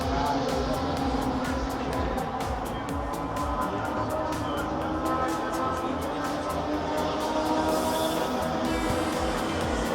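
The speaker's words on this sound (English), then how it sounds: "How incredible is that? It's a steam powered rocket bike." A steam-powered rocket bike runs at a drag racing show, producing a continuous loud roaring hiss with a steady rumbling low end, held for about ten seconds with faint crowd and background noise mixed in.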